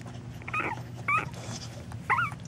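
A litter of newborn puppies whimpering and squeaking, three short high-pitched whines close by over a low steady background hum.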